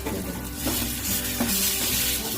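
Potatoes frying in oil in a wok, a steady close sizzle and bubbling hiss with faint stirring scrapes, no talking.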